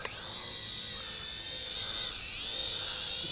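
HHD H3 RC FPV drone motors spinning during an automatic takeoff: a steady, high-pitched electric whine held evenly throughout, close and fairly quiet, with no talking.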